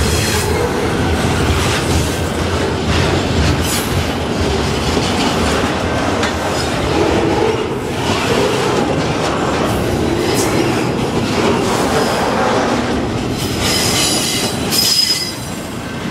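A CN freight train passes close by on the Halton Subdivision and then backs up, giving a loud, continuous rumble of rolling cars with clickety-clack wheel beats and a sharp wheel squeal near the end.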